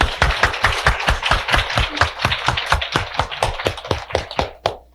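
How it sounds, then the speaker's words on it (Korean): An audience at a seminar claps hands vigorously in a fast, steady rhythm, about four sharp claps a second. The clapping is loud and close, with no talking. "그럼 힘차게 시작한다는 의미에서 박수를 한번 힘차게 치겠습니다"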